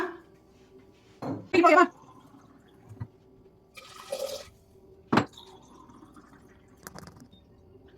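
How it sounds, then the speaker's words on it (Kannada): Short bursts of water splash into a metal pressure cooker, separated by quiet gaps and a few clinks and knocks of cookware. "ಇಲ್ಲಿ 4 ಲೋಟ ನೀರು ಹಾಕೋ"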